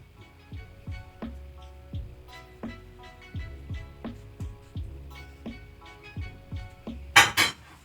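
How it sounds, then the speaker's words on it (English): A knife chops cantaloupe inside a small bowl, giving repeated light clinks and taps against the bowl in an irregular rhythm, close and fairly quiet, with a couple of sharper knocks at the end. "So I'm going to chop mine in a small bowl."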